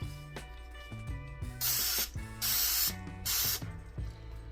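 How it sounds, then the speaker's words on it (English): Three bursts of cooking oil spray hit a foil-lined air fryer tray, each a loud hissing spray lasting about half a second, set against steady background music. "So now I'm just going to go ahead and spray it with some palm spray."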